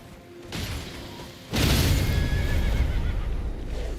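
A horse in a video game lets out a loud, close whinny that surges suddenly and carries on for a couple of seconds over game background noise.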